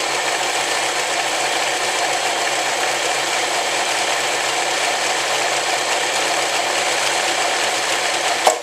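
An Elna 393 semi-industrial sewing machine runs an overlock stitch with a steady, fast mechanical whirring and clatter. The sound is loud and close without a break, and a brief knock comes at the end.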